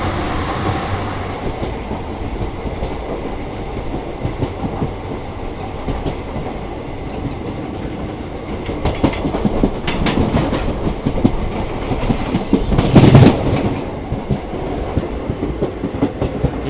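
The Kakinada Port Bhavnagar Express rolls along the track in a steady rumble of railcars with clickety-clack wheel beats and a brief louder surge near the end.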